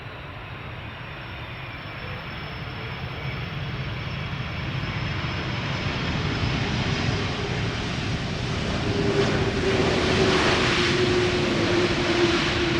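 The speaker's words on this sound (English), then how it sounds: "KLM flight 765 arriving from Bonaire." A KLM airliner inbound from Bonaire lands at Amsterdam Schiphol using idle reversers, a broad steady roar of engine and rushing air that swells slightly louder toward the end, with no voices.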